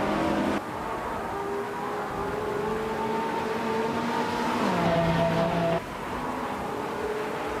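Race cars launching off the start line in a racing video game, engines revving loudly with rising and shifting pitch tones, a sudden cut midway as a new engine note takes over.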